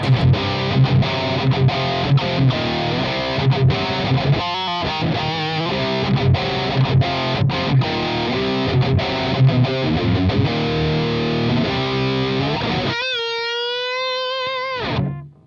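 Loud electric guitar strums through Revv effects pedals in a steady rhythm, then a final chord wobbles and warbles with heavy twin tracker modulation before cutting off.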